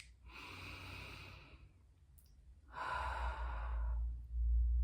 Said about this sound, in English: Nice deep breaths in and long, slow breaths out.